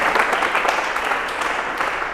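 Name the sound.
audience applause welcoming the leader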